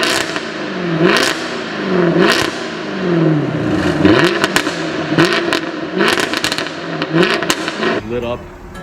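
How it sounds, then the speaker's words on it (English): A Jaguar F-Type R with a V8 engine revs repeatedly, each blip rising and falling in pitch with crackles and pops on the overrun, loud and close by. "I'm gonna add some videos in right now so you guys can see the full capability of the Jaguar F Type with a V8"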